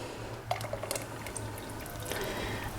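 Cream is poured into a pot of tomato soup. It makes a soft, quiet trickle with a few small drips and splashes, and a short knock comes right at the end.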